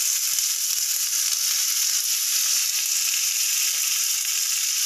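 Curry leaves dropped into hot oil with browning urad dal give a dense, steady sizzle and crackle, close and loud, with no voices.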